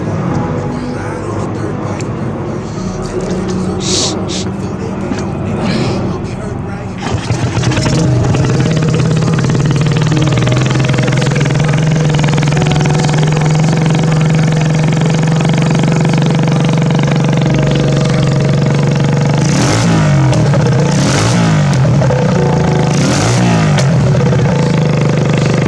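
An engine on a G fab Moose build cranks and starts after a few seconds of rustling, then settles into a steady, loud running idle with several short revving bursts near the end.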